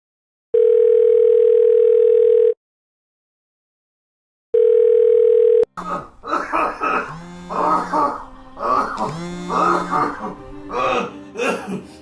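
Two long electronic tones sound while a phone call is placed, each about two seconds with a pause between, followed by someone speaking Hindi after the call connects.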